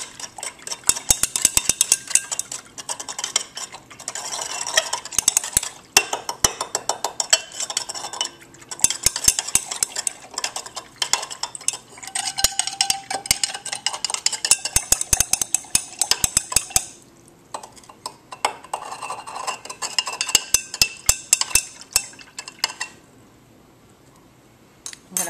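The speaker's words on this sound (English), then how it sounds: "So I'm going to add 10 more grams of salt to the beaker, stir it until it dissolves." Metal spoon stirring salt into water in a glass beaker, a busy run of rapid clinks and scrapes against the glass that keeps up steadily for most of the time and stops near the end.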